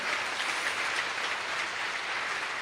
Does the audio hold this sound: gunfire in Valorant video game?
no